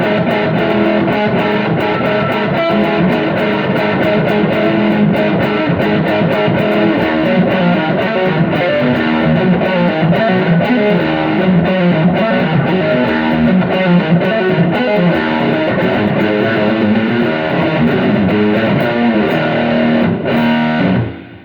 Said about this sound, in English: it's just a great distortion pedal